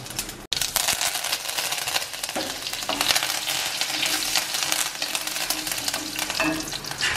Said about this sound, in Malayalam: അതിലേക്ക് നമ്മൾ കടുക് പൊട്ടിക്കുന്നു